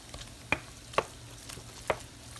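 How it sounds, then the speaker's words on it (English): Spaghetti squash mixture being stirred in a pan, with three distinct scraping clicks of the utensil over a faint sizzle, close and fairly quiet. "I added in my squash, and now I'm just going to stir everything together."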